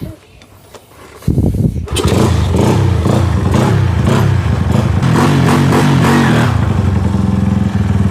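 A Honda Sonic motorcycle starts up and idles loudly and close after clutch repair, with clattery mechanical knocking and a rough, pulsing engine note under brief talk.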